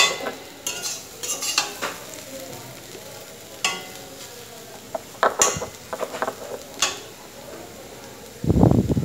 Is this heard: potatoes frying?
yes